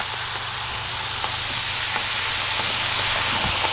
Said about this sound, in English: we're going to steam that cheese for a minute